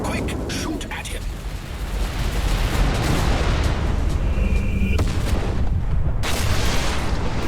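Spaceship weapons in Everspace 2 unload in rapid repeated bursts and booming blasts during a space fight, loud and continuous with sharp cracks and heavy rumbling impacts piling on each other throughout.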